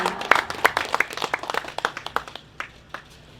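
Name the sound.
audience clapping hands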